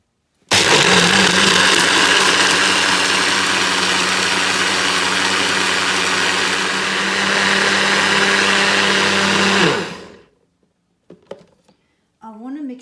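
A blender grinds almonds and carrot into a very fine mix, running loud and steady for about ten seconds before it stops, followed by a few faint handling sounds.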